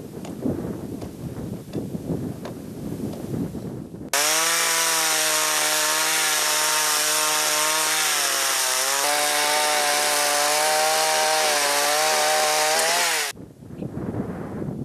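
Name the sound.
cutting conifer logs from the taiga to build a house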